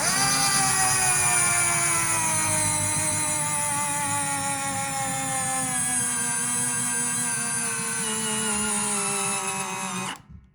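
A power drill spins a bolt on a Steadicam G70X arm, running steadily at high speed with a loud, continuous whine for about ten seconds before cutting off abruptly at the end.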